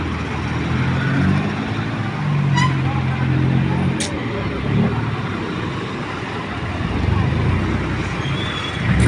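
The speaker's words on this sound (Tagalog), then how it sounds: "Traffic na naman to." Road traffic in the Philippines, a steady rumble of cars and trucks passing close by, with a brief horn-like tone and someone talking over it.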